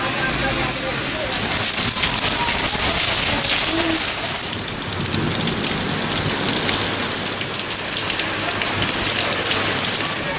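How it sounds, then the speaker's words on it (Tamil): Heavy rain pours with strong wind across Cheyyar and nearby areas of Tiruvannamalai district. The downpour is a dense, continuous hiss, with gusts swelling and easing and a low rumble underneath throughout. "திருவண்ணாமலை மாவட்டம் செய்யாறு மற்றும் சுற்றுவட்டார பகுதிகளில் பலத்த காற்றுடன் கனமழை பெய்தது."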